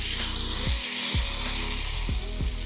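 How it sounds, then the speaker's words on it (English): Hot oil sizzling as it is poured over chopped scallions, a steady close hiss and crackle with a few soft low knocks, no voices. "It's going to bubble and sizzle."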